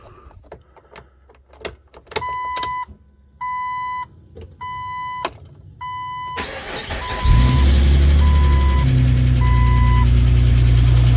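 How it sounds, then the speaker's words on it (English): A Jeep TJ engine cranks and fires up after the heater core reassembly, preceded by several chime-like warning beeps, then settles into a loud, close, steady idle with a few more beeps over it, no talk. "We'll fire it up, see if we've got any leaks."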